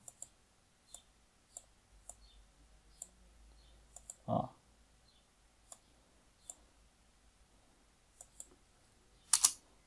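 Sparse, sharp computer mouse clicks in PE Design embroidery software spaced a second or so apart, quiet and close, with a brief low thump midway and no speech.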